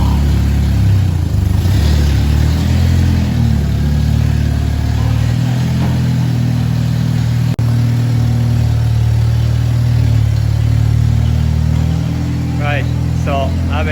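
BMW E46 318 drift car engine as it pulls out of a shed, a loud steady low engine drone with mild rising revs near the end, heard close, with faint talk underneath.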